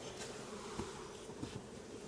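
Honey bees from a newly installed package buzz around a hive entrance, a soft continuous hum with individual insects passing close now and then, faint overall and with no talk.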